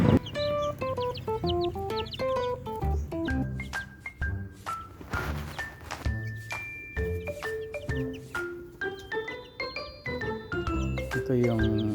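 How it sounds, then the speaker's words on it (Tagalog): Native chicken clucking among a flock, with repeated short clucks and calls over a steady background of music-like tones lasting the whole stretch, fairly faint and mid-distance. "ang aking native na manok"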